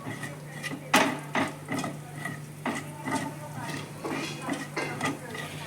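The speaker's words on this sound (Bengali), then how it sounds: "একটু গোটা গরম মশলাটা নাড়িয়ে নিই, মানে ভেজে নিই ভালো করে" Whole garam masala spices fry in a pan while a spoon stirs them, making a string of sharp scraping clinks and soft rattles over a faint sizzle, with someone talking throughout.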